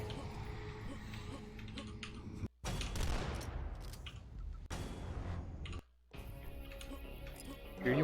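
Gunfire at a switch in the video game Dusk. Clattering, crackling shot bursts come in sections separated by two brief total dropouts, with a low rumbling ambience underneath and no talking.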